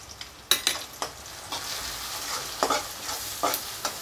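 Tomatoes with chili powder sauté in a pan, a soft continuous sizzle broken by several sharp spatula scrapes and taps as the mixture is stirred.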